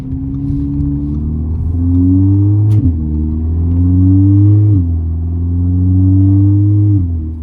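An Audi or VW car engine, fitted with 034 Motorsport dogbone mount inserts, hums steadily and rises in pitch through several acceleration runs, with brief dips as gears shift, close and fairly loud.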